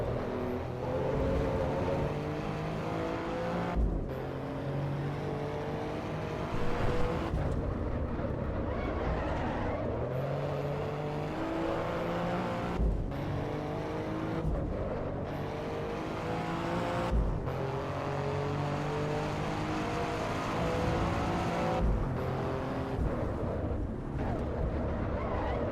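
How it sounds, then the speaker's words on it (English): Alfa Romeo Giulia engine in the racing game Assetto Corsa EVO, a steady roaring drone rising and falling through repeated gear changes with brief dips between shifts, loud and continuous without speech. "I love the sound of the Giulia."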